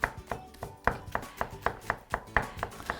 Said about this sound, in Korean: 흰 부분은 쫑쫑 썰어 줄 거예요.